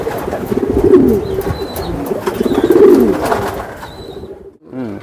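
Racing pigeons at a pigeon farm coo close by in repeated low rolling calls, with a few faint chirps and background rustle; the cooing swells twice and then fades near the end.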